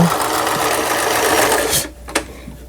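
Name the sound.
repaired Riccar 5302 sewing machine running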